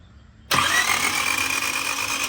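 A car engine, just fitted with new coilovers and suspected of lost compression, bursts into a loud sustained whir after half a second of quiet, cranking continuously without catching or settling into an idle.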